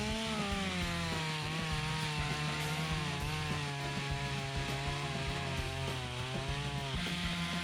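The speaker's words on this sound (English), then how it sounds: "This saw seems to be cutting pretty good today." Chainsaw cutting through tree limbs, engine running steadily loud and close throughout with slight pitch wavering as the chain bites into the wood.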